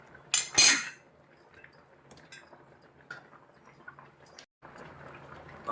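A pressure cooker is set down in place while cooking bottle gourd curry, giving a sharp, loud metallic clank of pots early on, followed by scattered faint clinks and light kitchen handling.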